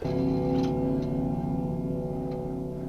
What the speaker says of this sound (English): Clock chime to give kind of a spooky kind of church bell in the background.